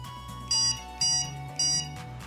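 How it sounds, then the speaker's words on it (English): A DogRook bark collar's sensitivity button gives three short, evenly spaced electronic beeps, close and clear over a faint background hum. "A beep will accompany each increased sensitivity level."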